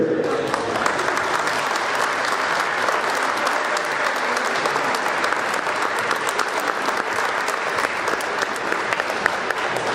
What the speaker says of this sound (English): we give them a round of applause and we wish them success following their high school career